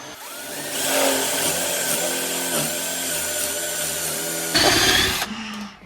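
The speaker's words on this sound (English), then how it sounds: "we are using a 1/2 inch drill bit." A power drill with a 1/2 inch bit bores into wood, whining steadily at close range for several seconds. It rises briefly into a harsher burst before stopping.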